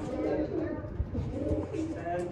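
Pigeons coo in a continuous low, throaty murmur beneath someone talking steadily close by.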